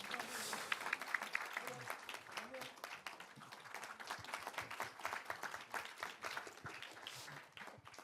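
Applause from an audience at an education forum talk concert, a steady patter of many hands clapping for a six-member panel throughout, moderately loud with some voices mixed in.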